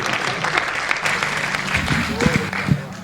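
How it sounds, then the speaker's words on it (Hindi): Welcoming applause for a poet at an Urdu-Hindi mehfil poetry gathering: steady clapping from the audience, with a voice starting to speak over it toward the end. "मैं चाहता हूँ कि इस्तकबाल करें तालियों में"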